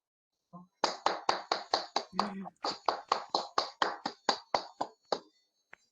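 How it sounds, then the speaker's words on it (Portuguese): A single person clapping hands over an online meeting microphone, about sixteen quick even claps close and clear, with a short spoken word near the start. "habilitem seus microfones para uma salva de palmas"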